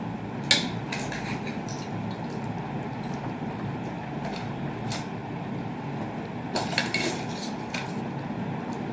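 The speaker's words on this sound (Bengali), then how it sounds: "এবার একটু ঢাকনাটা খুলে দেখে নিচ্ছি" Metal lid lifted off a cooking pot of Bengali vegetarian shukto, two bright clanks of metal against metal over a steady hiss of simmering.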